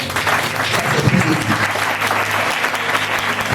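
A church congregation claps loudly and steadily to acclaim Jesus during a prophetic worship service, dense applause filling the space with crowd noise and scattered voices mixed in.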